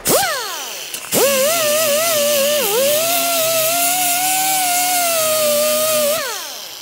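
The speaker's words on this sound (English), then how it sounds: "with the grinding disc." An angle grinder's disc grinds down welds on sheet metal: a quick first burst, then a spin-up into a loud, steady whining grind for about five seconds before it winds down.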